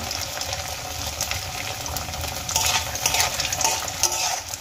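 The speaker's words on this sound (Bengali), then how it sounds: "সমস্ত নারকেলের কুচি আমি এই তেলের মধ্যে দিয়ে দিলাম।" Small chopped coconut pieces frying in hot oil give a dense, bright, continuous sizzle that swells and crackles louder midway, close up with no voices.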